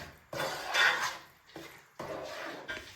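A motichoor laddu mixture stirred in sugar syrup in a pan, heard as repeated close scraping and clattering strokes in three or four bursts with brief pauses between them.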